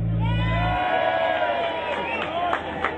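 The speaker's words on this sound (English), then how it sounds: "and they want to hear a cheer" Festival crowd at Headstock 2016 cheering for a band: a low sustained drone cuts out early, then a dense wash of voices, whoops and scattered shouts carries on fairly loud and steady.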